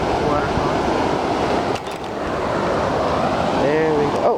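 A waterfall on a mountain river gives a loud, constant rushing roar with wind buffeting, while a person talks briefly over it near the end.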